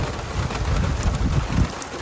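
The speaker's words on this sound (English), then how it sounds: "Can it just stop raining, please?" Heavy rain pours steadily outdoors at a carp fishing lake, a dense continuous patter close by with no voices.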